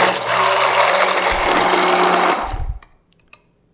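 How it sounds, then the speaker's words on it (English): A stick blender emulsifying a citrus salad dressing whirs loudly and steadily for a couple of seconds, bogs down briefly, then cuts off, leaving a few small clicks. "Using our stick blender, we emulsify"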